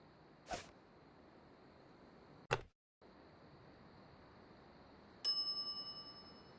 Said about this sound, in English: Ring bell for service.